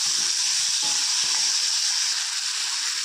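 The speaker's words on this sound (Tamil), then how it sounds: "அப்போ தான் நல்லா ஜூஸியாக நல்லா வதங்கும் தக்காளி." Tomatoes with salt sautéing in a pan, a steady close sizzle and hiss of frying with no talk.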